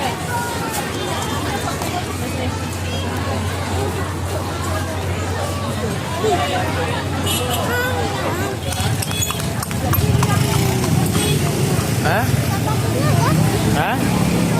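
Horse hooves clip-clop steadily on a street near Jam Gadang in Bukittinggi, with passing car noise, crowd babble and people talking close by throughout.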